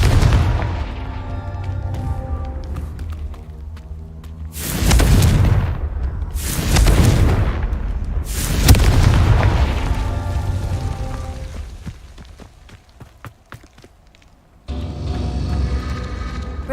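Confringo fire-spell explosions in the game Hogwarts Legacy, three loud booming blasts about two seconds apart over low background game noise, close, with a faint separate rush of sound near the end.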